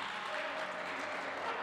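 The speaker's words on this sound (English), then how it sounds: "Everybody else clapping, saying, we like it." Spectators at a Blitzball game clap in a steady, moderately faint patter of applause, with commentary-style talk faintly underneath.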